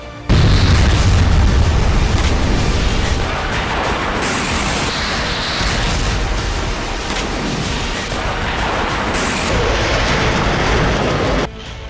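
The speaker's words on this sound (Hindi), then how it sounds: "यूक्रेन ने रूसी पोजीशन को क्लस्टर बम से टारगेट किया।" Cluster bomb explosions strike Russian positions in the Russia–Ukraine war, a dense, continuous roar of distant blasts and rumbling booms that runs loud and unbroken for about twelve seconds before cutting off abruptly.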